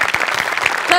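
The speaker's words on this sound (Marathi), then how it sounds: "खरंच ताईच्या बेरिंगसाठी जोरदार टाळ्या झाल्याच पाहिजेत" A live comedy show audience bursts into loud, steady applause, a brief close burst of many hands clapping with a voice faintly mixed in.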